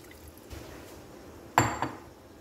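Onion water is poured into raw beef marinade for Afghani boti, making a quiet liquid splash with a brief slosh and a second smaller splash shortly after.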